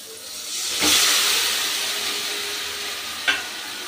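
Mutton pieces frying in a pan with a cooked-down spice paste give a broad, steady hissing sizzle that swells as the meat goes in, with a brief clatter near the end, up close and without talking.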